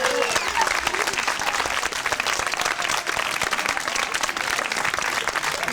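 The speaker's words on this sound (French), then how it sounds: "S'il vous plaît, encore un applaudissement." Sustained audience applause fills the whole stretch, dense and steady, with faint crowd voices mixed in, at the close of a stage performance created over four and a half days.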